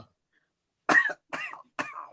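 Three sharp coughs in quick succession, close and fairly loud, after a moment of silence.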